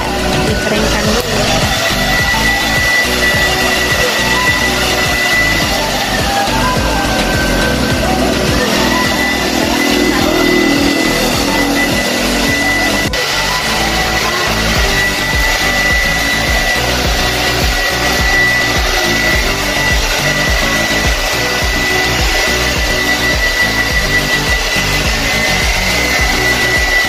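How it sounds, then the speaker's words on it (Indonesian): A hair dryer runs continuously at a salon, a loud, steady close-up whir drying hair for the whole stretch without stopping, with faint voices now and then beneath it. "Mau di hair dryer, dikeringkan dulu."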